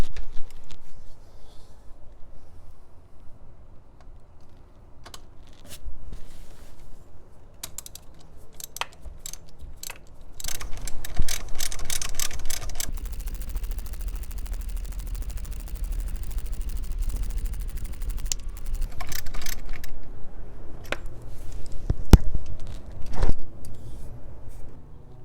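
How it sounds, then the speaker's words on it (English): Ratchet on a 2-inch extension removing the bypass valve bolts on an Ecoboost Mustang, giving scattered clicks and short bursts of rapid ratcheting, close and fairly faint over low rumbling background. "remove the 3 bolts that hold the bypass valve. We'll start with the top one with the 2-inch extension."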